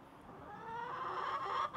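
Backyard chickens giving a drawn-out, rising cluck-like call, close and moderately loud, ending with a brief break.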